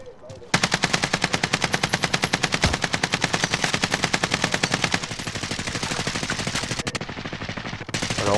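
Gunfire in Call of Duty Warzone on the Verdansk map, a long, loud, fast machine-gun stream of evenly spaced shots that continues almost without a break.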